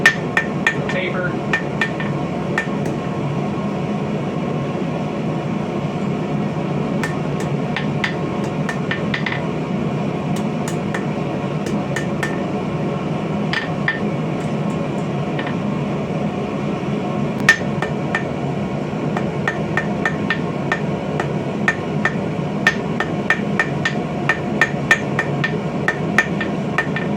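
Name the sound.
hammer forging steel on anvil, drawing to a point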